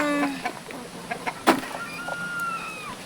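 Backyard pet chickens give a few short clucks and a rising squawk, fairly close and fairly quiet, with a faint mechanical whine running underneath.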